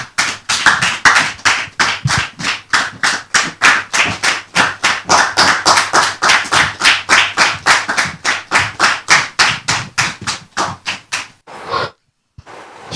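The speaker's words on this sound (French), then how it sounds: "je vous demande de la recevoir ici et maintenant sous vos applaudissements" An audience claps in unison at a church gathering: loud, evenly spaced beats in a steady rhythm that slowly speed up, then break off near the end.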